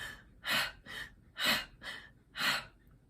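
A singer demonstrates breathing: slow, airy inhales and exhales alternate in an even rhythm, close and soft, with no talking.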